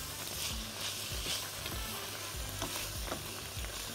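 Vegetables for potato shawarma sizzle and wilt in a hot pan, a steady crackling fry with repeated soft stirring scrapes.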